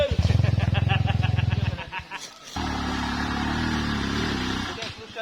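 A Honda CRF230 dirt bike engine is throttled in a rapid pulsing chug for nearly two seconds, drops out briefly, then settles into a steady, sustained drone close by.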